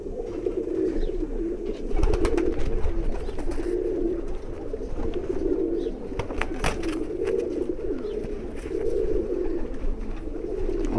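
Slate-grey high-flyer pigeon coos steadily in low, throaty rolling phrases that repeat for the whole stretch, close and fairly loud over a soft background hum.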